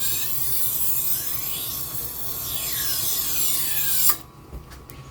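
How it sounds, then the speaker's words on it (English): A kitchen knife is honed on a Tormek T-1 sharpener: a steady, loud rasping rub runs for about four seconds, then stops abruptly, followed by a couple of faint clicks and near quiet. "Once you get that all done, it is time to hone it."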